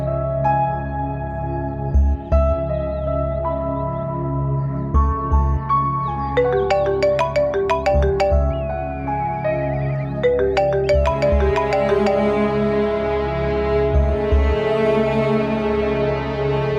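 A melodic phone ringtone plays a repeating tune of layered electronic notes. It carries on steadily and fairly loud for about seventeen seconds, with a low pulsing rhythm underneath and no voices.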